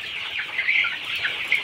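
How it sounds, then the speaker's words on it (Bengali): Sonali chickens in a poultry house making soft, repeated clucking calls, close and moderately loud over a quiet background, with no talk. "যার কারণে আমি সোনালী মুরগি এই ঘরে এনেছি।"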